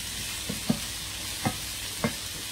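Onions and bacon bits sautéing in a pan, a soft steady sizzle with a few dull stirring knocks spaced apart, close and moderately quiet.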